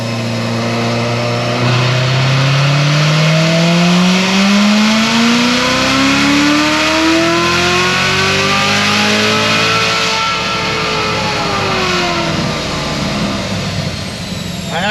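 RPM Stage 4 engine making a full-power pull on a DynoJet dyno, a loud sustained roar sweeping steadily up in pitch for about eight seconds, then holding high revs before easing off, with no talk.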